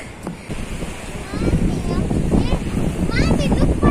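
Strong ocean waves surge and crash at Playa de Santa Cruz beach, a steady loud roar of surf with wind buffeting the microphone and people talking faintly nearby.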